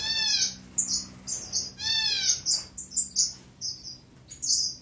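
Australian finches in an indoor aviary give bright, high chirps and short twittering trills in quick, uneven bursts, close and fairly loud, with no one speaking.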